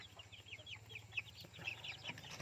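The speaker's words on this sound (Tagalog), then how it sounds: "Yung Dongtao, ayan sila, Dongtao chicks." Dongtao and Brahma chicken chicks peeping faintly, a run of quick soft chirps scattered over a low background hum, heard from close by with no voices.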